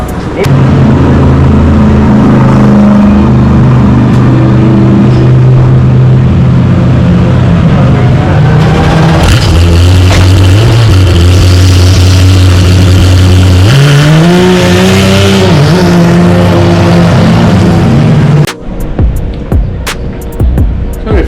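A GT race car engine, running in GT World Challenge Asia at Buriram, drones loud and close during brake bedding, its pitch stepping down and up as it accelerates and slows, before a sudden cut to quieter sounds.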